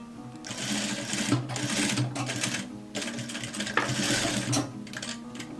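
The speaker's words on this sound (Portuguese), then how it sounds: "Coloco aqui em cima e costuro de novo." A sewing machine stitching a raglan-sleeve jacket runs in steady whirring bursts with brief stops between them, close and continuous with a rattling mechanical rhythm.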